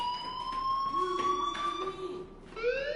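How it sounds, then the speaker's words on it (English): A school fire alarm in the video game Life is Strange wails as a steady, loud electronic siren tone that holds for about two and a half seconds, then jumps to a brighter, rising pitch near the end. "Hey, do you hear that fire alarm?"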